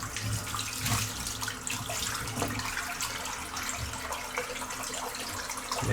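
Water from a shaving bowl is emptied into a sink, a steady rushing splash with gurgling swells that runs close and fairly loud for several seconds, with no talk.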